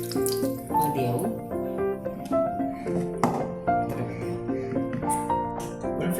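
Water runs from a tap and splashes into a bowl of fish with turmeric and spices being mixed by hand for a marinade, a close, intermittent trickling and splashing with faint clinks.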